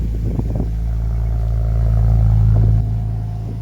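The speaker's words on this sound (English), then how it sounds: "That actually sounded very good on fire up" A car at an auction, likely fitted with an aftermarket exhaust, idles with a steady low rumble close by after firing up, settling from a brief rise into an even drone before dropping off near the end.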